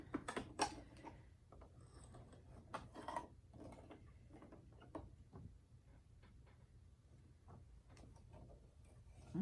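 A Brother SE1900 embroidery machine stitches a pillow design, giving a steady run of quick mechanical ticks and clatter that stays fairly close and moderately quiet, with no talking.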